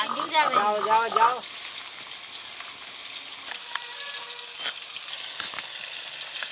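Chunks of pangas fish fry in oil in a pan, a continuous crackling sizzle that stays moderately loud throughout, after a brief voice at the start.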